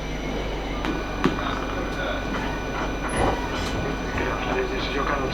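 Cabin of a South Western Railway Class 458 electric multiple unit train on the line to London Waterloo, with a steady rumbling hum of the moving train, occasional faint clicks and knocks, and a public address announcement playing over it.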